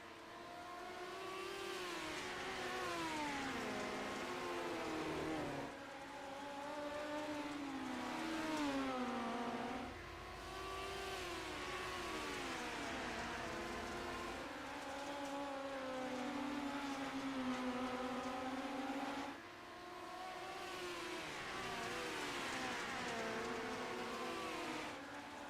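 Race car engines from the iRacing sim in a league oval race, heard as a continuous loud multi-car drone with rising and falling pitch sweeps as cars accelerate and lift, with no voices.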